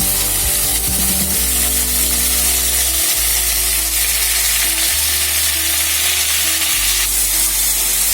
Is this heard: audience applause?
no